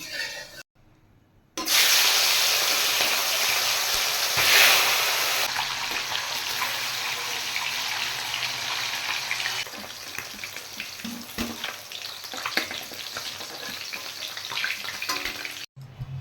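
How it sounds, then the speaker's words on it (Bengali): Katla fish pieces frying in hot oil, a loud, steady sizzle that starts abruptly after a brief quiet moment and continues with crackling and light stirring throughout. "তেল গরম হয়ে গেছে, এবার আমি মাছগুলো ভেজে নেব"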